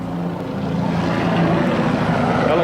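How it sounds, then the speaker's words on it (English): Military helicopters pass overhead with a steady, loud rotor drone and low chopping hum that holds throughout, with no talk. "Helicopters now trying to search, see where the fire is coming from"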